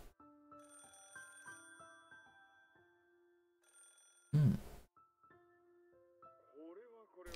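A telephone ringing tone after a number is dialled, heard as repeated tonal rings in a quiet room, broken by a brief loud noise partway through, then a voice begins speaking near the end.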